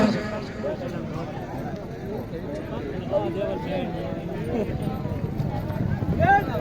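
A horse gallops during a tent pegging (neza bazi) event at Piplan, Mianwali, its hooves drumming steadily beneath a noisy outdoor crowd of shouting and talking spectators.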